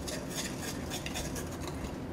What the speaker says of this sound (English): Next thing I'm going to do is stir this all up.